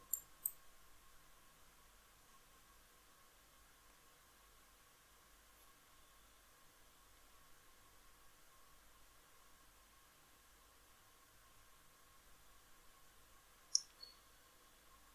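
Faint computer mouse clicks in a quiet room: a quick pair near the start, then a long hush before another sharp click or two near the end.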